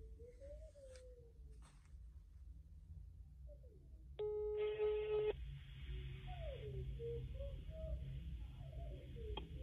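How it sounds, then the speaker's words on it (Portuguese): Telephone call signalling tones on an outgoing call, a brief beep followed by a steady tone lasting about a second, heard faintly over background hum with some squeaky sounds before and after. "Vamos ligar pra ele de outro número, galera."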